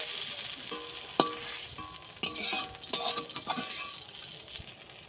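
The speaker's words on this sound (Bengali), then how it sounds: "টমেটোগুলো এরকম করে ভেজে নিতে হবে।" Unripe tomatoes fry in a pan, a steady hiss of oil broken by scraping stirs and a few sharp utensil clinks against the pan, close and continuous with no talking.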